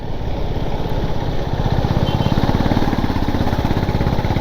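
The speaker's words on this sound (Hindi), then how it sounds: "हम भी अपनी बाइक चला रहे हैं भाई," Motorcycle ridden on a narrow mountain road between Chandratal and Delhi in light traffic: a close, steady pulsing engine drone with rushing wind noise throughout.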